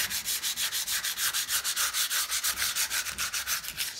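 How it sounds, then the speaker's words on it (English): Bighorn ram horn sheath being sanded by hand with 180 grit sandpaper, a steady rhythm of quick, close back-and-forth rasping strokes, about five per second, with no talking. "So I'm just kind of taking a little 180 grit sandpaper and just kind of hitting it."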